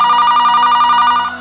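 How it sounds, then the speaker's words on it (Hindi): A telephone rings loudly in a home, with a steady, bright electronic warble that pulses rapidly. It plays continuously, close up, and cuts off abruptly at the end. "देखा था केकर फोन?"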